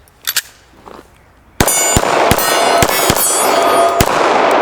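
Rapid bursts of gunfire from a firearm, a dense string of loud sharp cracks with ringing, metallic reverberation, preceded by a couple of isolated shots and a brief lull.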